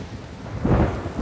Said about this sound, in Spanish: La lluvia se adueña de la tierra alta